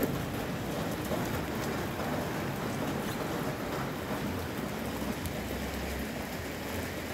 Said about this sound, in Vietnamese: mưa sáng giờ luôn nè